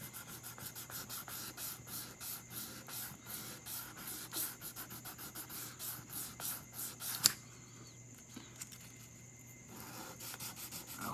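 Steady back-and-forth sanding strokes on the sides of a Fender Stratocaster guitar neck, a rhythmic rasping rub close to the mic that pauses near the end before starting again.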